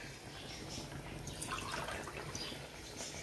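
Water is poured into a cooking pot to make rice, a soft, steady splashing and trickling stream that brightens briefly midway.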